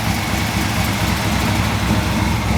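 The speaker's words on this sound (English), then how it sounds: "It still sound like it's idling kind of high." A 1964 Impala SS engine, just fitted with a rebuilt carburetor, idles a little high in a steady, even drone heard up close without any voices.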